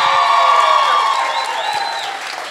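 Live studio audience at a talk-show taping in Buenos Aires, Argentina, cheering and applauding loudly and continuously, with whoops and shouts mixed in, fading slightly toward the end.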